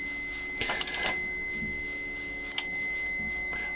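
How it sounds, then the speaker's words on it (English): A steady, high-pitched continuity buzzer tone across the ignition points of a BMW R75/6 airhead boxer motorcycle drones continuously in the background, with a couple of brief clicks and faint mechanical sounds passing over it. "you can hear the buzzer buzzing away in the background"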